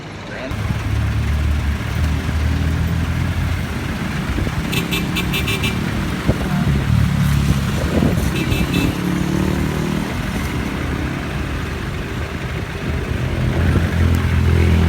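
Cars and motorcycles passing along a busy roadside near Molo, Iloilo, while waiting for a jeep: a loud, continuous traffic rumble with a brief horn toot partway through.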